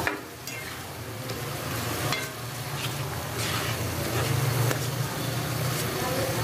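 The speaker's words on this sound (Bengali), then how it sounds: "এখন হচ্ছে সব মশলা কষিয়ে নেব।" Meat and spices with turmeric and salt being fried and stirred in a pan, a continuous sizzle with scraping stir strokes that grows slightly louder toward the end.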